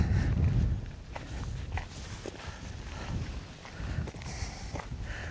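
Gusty wind buffets the microphone on the Malvern Hills, low rumbling bursts strongest at the start, with soft irregular footsteps on wet ground while walking.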